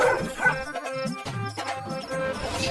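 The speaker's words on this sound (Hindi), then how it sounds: "तब तक सेठ का कुत्ता बिरजू का पिछवाड़ा नोच लेता है।" A bulldog barks and yelps in quick, agitated bursts during an attack, close and loud, with whimpering cries mixed in.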